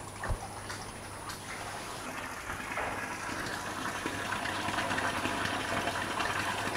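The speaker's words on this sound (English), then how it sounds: "I'm going to switch on the pump." An aquaponics water pump starts up and water gushes out, a steady rushing flow building and holding at moderate level after a few faint knocks.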